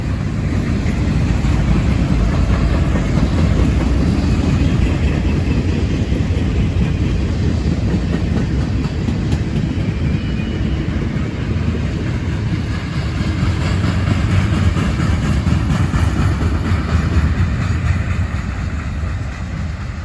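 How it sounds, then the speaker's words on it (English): A heavy freight train in southern Indiana rumbles past nearby, a loud low engine drone with rolling wheel noise that holds steady the whole time. "this train's heading to Princeton"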